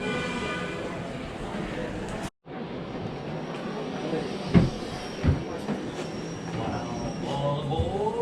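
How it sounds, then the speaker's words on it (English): A simulated train ride at the National World War II Museum in New Orleans gives off a steady rumble of rail cars with clacking wheels and faint squeals, under people talking nearby, with a brief cutout early on. "we got in line for a simulated train ride"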